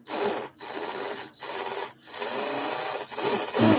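A small power drill spins in five quick, closely spaced bursts while twisting gauge wire for coil making, each a raspy high whir that stops and starts again.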